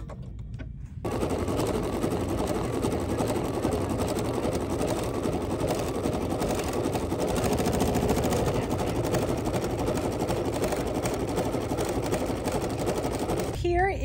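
A sewing machine stitches the last color of an appliqué fabric block in a quilting class, running loud and close in one steady, rapid, unbroken burst for about thirteen seconds after a quiet opening second.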